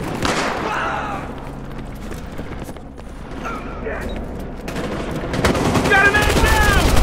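Heavy gunfire in the police shooter Battlefield Hardline, bursts of rapid shots under game voices calling out, growing louder and denser toward the end.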